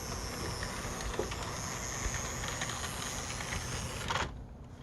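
A Hornby OO-scale model train rolls steadily along its track with a continuous soft hiss and rumble, then passes by and fades near the end.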